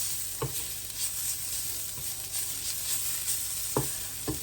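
Spice powders roasting in a pan for dosa chutney, a soft, low sizzle with occasional faint scraping taps of a spoon, fairly quiet and steady under a constant background hum.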